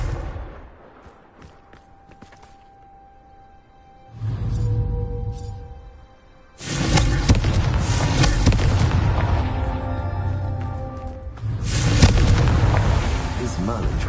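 A Confringo spell goes off in a Harry Potter video game, giving a loud booming blast that swells and lingers, followed by a second heavy surge, all without speech.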